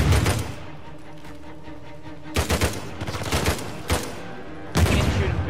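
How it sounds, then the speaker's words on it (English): Shotgun fire in the video game Uncharted 4 comes as several loud, sharp blasts spaced a second or two apart, with a busy rumble of game noise between the shots. "Really good shotgun."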